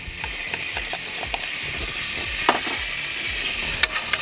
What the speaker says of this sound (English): And then in with your bacon.